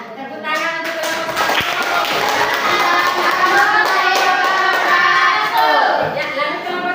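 Classroom audience in an Indonesian school session clapping steadily for about six seconds, dense hand claps running continuously with children's voices chattering underneath.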